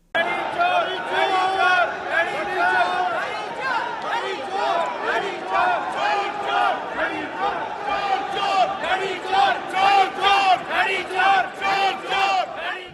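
Punjab Assembly members chant political slogans during an oath-taking session, a loud rhythmic crowd of voices shouting in unison, with repeated bursts and swells that stay dense and continuous throughout.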